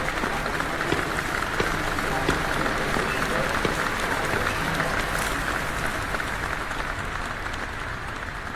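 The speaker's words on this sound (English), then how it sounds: "She enters the auditorium, where faceless figures applaud her." Faceless figures in the game Detention applaud in an auditorium: dense, steady clapping from a crowd continues throughout, with a narrating voice speaking over it.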